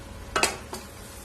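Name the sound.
ground coconut, garlic and cumin paste sautéing in a pan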